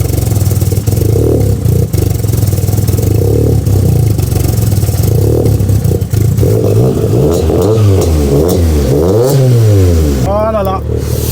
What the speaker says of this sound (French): Écoutez bien cette sonorité avec les arbres à cam.